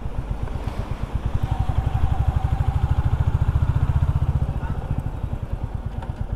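A Royal Enfield Classic 350 motorcycle thumps along steadily in the city, its rapid, even single-cylinder engine pulses loud and close throughout while riding.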